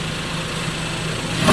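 An engine idles quietly on a cheap track car before its exhaust is modified, a low, steady, muted hum close by that swells slightly at the very end, with no talking.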